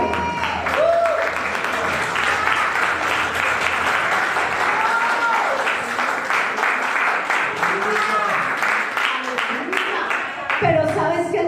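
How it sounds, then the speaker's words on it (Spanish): A church congregation at a Sunday service applauds loudly and continuously, dense clapping and crowd noise filling the room while a voice speaks over it throughout, with a brief pause near the end before the sound picks up again. "Dale un aplauso."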